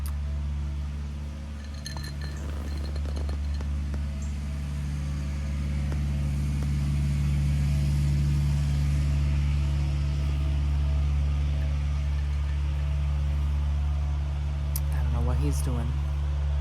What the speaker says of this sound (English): There's gonna be a very loud truck going by.